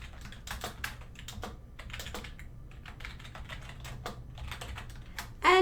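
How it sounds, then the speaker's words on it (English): Steady typing on a computer keyboard while composing a Microsoft Teams chat message, a fast, even patter of light key clicks, close-up with no voice. "Let's type a little text in there."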